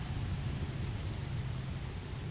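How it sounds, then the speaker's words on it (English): Poison rain on a toxic planet in No Man's Sky makes a steady, dense hiss with a low rumble beneath it, continuous and even throughout. "Alright, so this is a toxic planet. Poison rain, minimal sentinels,"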